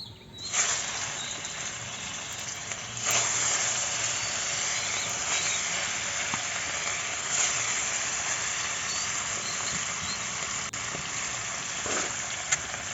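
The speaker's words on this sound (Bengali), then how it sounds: "দিয়ে দিয়েছি সর্ষের তেল এবার রুই মাছগুলো ভেজে নিচ্ছি" Rohu fish frying in mustard oil in a wok, a continuous bright hiss and sizzle that jumps up as pieces go in, with a few clinks, steady and close.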